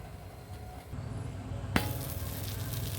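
A dosa sizzling in ghee on a hot pan, a steady frying hiss that swells after a sharp clink of a lid or utensil partway through, close and continuous without talk.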